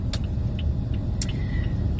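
Road traffic rumbles steadily at a moderate distance, a continuous low vehicle drone with a few faint clicks and jingles on top and no voices.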